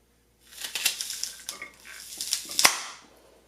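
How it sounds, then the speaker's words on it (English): A kitchen knife cuts a small onion in half, making a series of close, crisp crunching and cracking snaps that build to a sharp final break. "Let me just cut this in half and see if that does anything."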